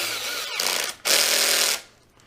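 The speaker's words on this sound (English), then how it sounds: "that very arrogant noise is the clutch slipping so it doesn't over torque" A power drill's clutch slips while driving screws into the plastic body of an X-Maxx RC truck, giving two loud, harsh ratcheting bursts close up, the second longer, separated by a brief pause.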